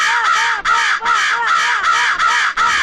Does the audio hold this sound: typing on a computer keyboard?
no